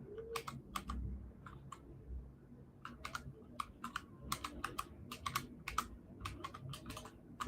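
Fingers typing on a computer keyboard, a quick run of crisp, close key clicks with irregular rhythm and brief gaps, set against a faint low room hum and no speech.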